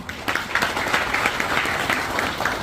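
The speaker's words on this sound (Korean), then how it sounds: "여러분 박수로 맞이해 주세요" Audience applause at a groundbreaking ceremony for a county crematorium facility in Geochang, a steady patter of many hands clapping that sustains evenly at moderate loudness throughout.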